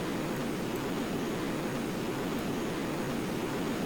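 Steady, loud jet-pack roar from the Risia floater in the video game Star Trek Online, a continuous broadband whoosh that holds unchanged throughout with no talk.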